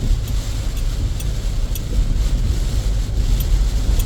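Strong typhoon wind roaring steadily and close, a heavy continuous rush with gusty low buffeting and a few faint ticks, no voices.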